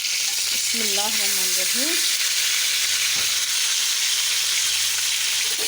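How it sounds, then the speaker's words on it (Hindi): Masala-coated fish fries in a pan of oil, giving a loud, constant sizzle and crackle throughout, with a brief spoken phrase near the start. "मछली जब एक तरफ से पक जाएगी तो इसको पलट के हम करेंगे सीधा"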